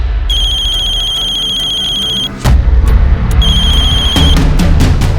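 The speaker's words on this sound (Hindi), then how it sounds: "उसका हमारे पास फोन आया।" A phone rings loudly in a crime drama scene, two bursts of a bright electronic ringtone separated by a sharp thump, followed by clattering knocks.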